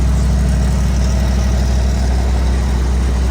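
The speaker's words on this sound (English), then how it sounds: "Yellow truck cold start bed." A 1988 Chevy truck engine idles after a cold start, a loud, steady, close rumble with an even low throb running through the whole stretch.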